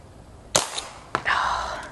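A Dan Wesson 715 pellet revolver, 2.5-inch silver model, fires twice at golf balls outdoors, giving two sharp snapping pops about half a second apart, each trailed by a brief hiss and rattle of the target.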